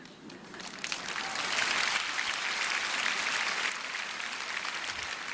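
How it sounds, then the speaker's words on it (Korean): Audience clapping at a prayer meeting swells up after a quiet start, holding as a steady, moderately distant wash of many hands before easing slightly toward the end. "박수 안 치셔도 됩니다."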